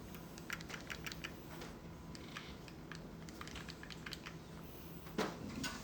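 Computer keyboard typing during a church service, a run of light clicking keystrokes at moderate distance over a steady low room hum, with one sharper key press near the end like Enter being struck.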